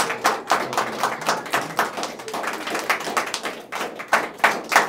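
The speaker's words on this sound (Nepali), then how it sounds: "सबै उठेर जोरदार तालीले हामीले स्वागत गरौँ।" A crowd claps at a DXN leaders' gathering in Nepal during a cake-cutting: many hands beat together in a brisk, roughly rhythmic burst of applause that continues throughout, fairly close, without talk.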